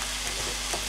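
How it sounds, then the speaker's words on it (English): Pork afritada sautéing in a pan, a steady close sizzle and frying hiss that stays even throughout with faint stirring, no voices. "So let's just let this saute for a bit."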